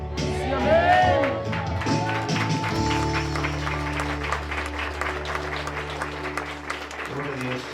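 A church congregation claps and cheers after a sung Spanish worship piece, loud applause at first that thins into scattered clapping, with voices and lingering musical tones underneath.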